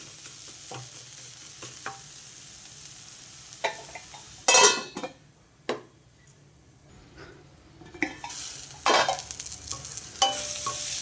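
A tamarind-leaf and onion curry seasoned with salt and chili sizzles in a pan as a spatula stirs it. Scraping strokes come in bursts over a soft continuous fry, close and fairly loud at times, with quiet gaps between.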